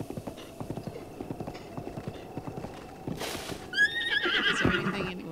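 A horse in Breath of the Wild walks with a steady, soft clip-clop of hooves, then gives a loud, close neigh and whinny near the end.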